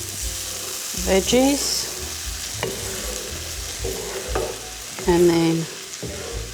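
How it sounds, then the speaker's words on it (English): Arborio rice toasting in a pan with vegetables for a fennel, mushroom and leek risotto, a steady soft sizzle with scraping stirs, while a person talks over it at intervals. "we're going to toast the rice, which is arborio rice"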